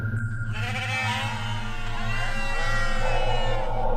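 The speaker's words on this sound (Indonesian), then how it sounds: "Ketika itulah kami kembali mendengar suara riuh domba dari luar." Sheep bleat together outside a tent at night in a horror story, several overlapping wavering cries, loud and close, rising and falling over a steady low hum.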